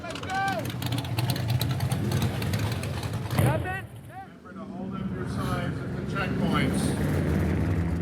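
Classic concours cars driving off on a tour around the Monterey Peninsula, a rumbling engine drone with a few revs rising and fading, heard under a commentator's voice, with a brief dip before the engine noise returns.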